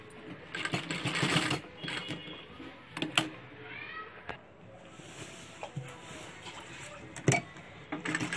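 A sewing machine stitches a dhoti shalwar in close, uneven bursts of rapid mechanical whirring and clatter, pausing between runs.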